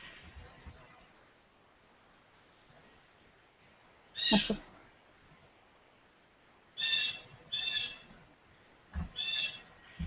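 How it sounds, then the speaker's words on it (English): Harsh, raspy blue jay calls ring out just outside a window in separate bursts: one, then a pair, then another pair, loud against a quiet background. "it's a very noisy blue jay right outside my window"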